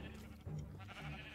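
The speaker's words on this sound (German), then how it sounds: "Die Schafe sind erstmal geerntet." Sheep bleat in the Minecraft video game, a few low wavering bleats that overlap one another and carry clearly through the short stretch.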